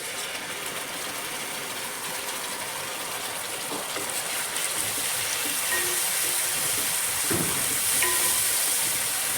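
Ground tomato paste going into a pan of onions frying in oil for an eggplant thokku, a continuous close sizzle and hiss that swells slightly louder toward the end, with a few soft clatters and no speech.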